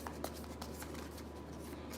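A deck of tarot cards is shuffled by hand, giving a faint, soft, continuous riffling and papery rustle close by over a low steady background hum.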